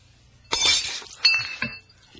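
A drinking glass of water is dropped and shatters in a radio drama effect: a sharp crash followed by a second burst of tinkling shards a moment later, then a few scattered clinks settling in a quiet room.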